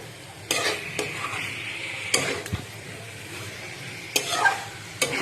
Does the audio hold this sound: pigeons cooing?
no